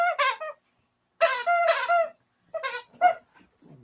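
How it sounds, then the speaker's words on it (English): A dog barks excitedly indoors in several short bursts of high, yelping barks separated by brief silences, close and loud, with no talking. "my dog's going crazy"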